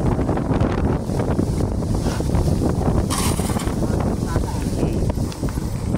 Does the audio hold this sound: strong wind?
yes